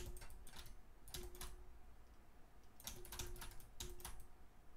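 Computer keyboard keys pressed during 3D car-body modeling of an Audi RS5 Coupe front, quick clusters of light clicky taps in irregular bursts over a faint steady room hum.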